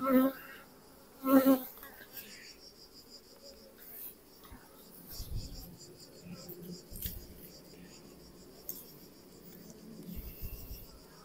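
Honeybees from a small Kenyan top-bar hive buzz around an open colony while swarms are being made up, a soft continuous hum with a few louder close passes near the start and quiet handling noises.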